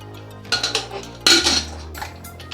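A metal pressure cooker lid being set and locked onto the pot, heard as a series of close clanks and clinks, one louder metallic clatter midway, with no talking.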